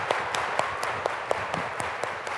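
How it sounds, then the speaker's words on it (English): An audience at an education conference's opening general session claps in unison, giving about nine sharp, evenly spaced claps in a steady rhythm over a low crowd murmur, fairly faint and at a distance. "Now everybody clap your hands."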